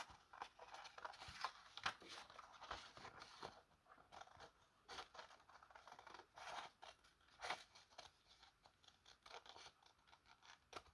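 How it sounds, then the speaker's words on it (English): Scissors snip steadily along the edge of a paper envelope flap, a dense run of close, crisp cutting strokes and rasps with no talking. "Cutting along the edge."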